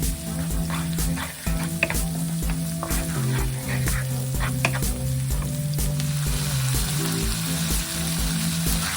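Garlic and chopped onion frying in olive oil, a loud continuous close sizzle with rhythmic stirring taps and no talk.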